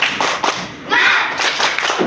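A classroom of students claps the rhythmic 'spirit clap' in a lesson, loud rapid bursts of hand claps in short patterned groups, mixed with children chanting together.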